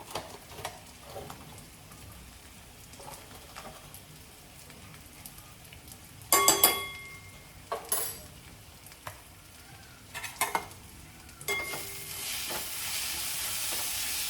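Onion sabji with turmeric, chili, coriander-cumin and garam masala being stirred in a pan, soft sizzling under intermittent scraping and clanks of a spoon, with a louder hissing stretch near the end.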